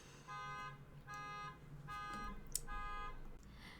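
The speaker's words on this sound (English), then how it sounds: "sorry about that, the car alarm was going off" A car alarm blares from a distance outdoors in repeated, evenly spaced honking pulses, four bursts in a steady rhythm over a low background rumble.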